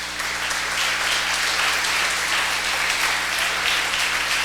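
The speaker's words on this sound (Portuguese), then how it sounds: "Se você entendeu, por favor, aplauda ele." A church congregation applauding its pastor, a continuous wash of many hands clapping at even loudness throughout, with a low hum underneath.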